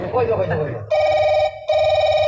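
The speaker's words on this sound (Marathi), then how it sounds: "ओ दादा फोन आलो" A telephone rings in two loud electronic bursts with a short gap between them, close by, following a stretch of talking at the start.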